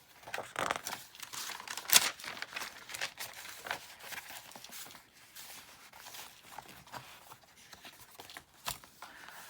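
Handmade paper journals, sewn, stenciled and stamped, with their pages flipped through quickly, giving a run of close papery riffles and soft crinkles that rise and fall for several seconds, with no talking.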